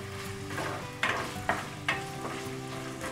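Chicken sautés in a pan with continuous sizzling while a utensil stirs it. Three sharper scraping strokes stand out over the steady frying.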